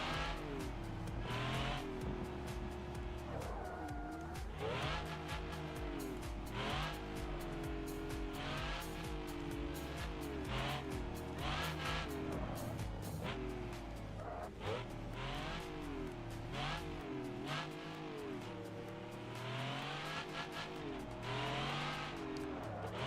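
A race car in a racing sim game braking downhill, with a steady engine drone that rises and falls in repeated pitch swoops through downshifts and reacceleration, continuous and fairly loud throughout.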